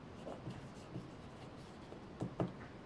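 Chalk or marker strokes on a classroom board, a soft scratchy run of short taps and swipes with a couple of firmer strokes near the end, close by and fairly quiet, with no talking.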